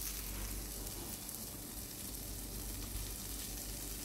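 Chicken breast frying on a hot tawa griddle, a steady, even sizzle and crackle of oil heard close and on its own throughout.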